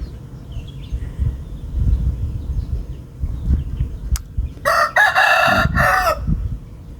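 Chickens clucking and scratching nearby, then a rooster crows loudly and clearly in one long call near the end, with the farmyard birds audible alone and no talking.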